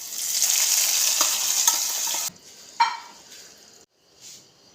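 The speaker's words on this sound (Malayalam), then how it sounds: "ഇനി നമുക്കിത് ചിക്കൻ സ്റ്റൂവിലേക്ക് ഒഴിച്ചു കൊടുക്കാം." Hot tempering of fried shallots and cashew nuts poured into a chicken stew, a loud crackling sizzle that cuts off abruptly, followed by a sharp splash and a few softer stirring sounds.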